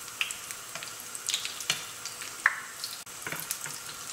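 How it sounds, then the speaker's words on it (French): Spoonfuls of banana fritter batter frying in hot oil: a soft, steady sizzle with scattered crackles and small pops, close and fairly quiet, with no voices. "on laisse donc frire."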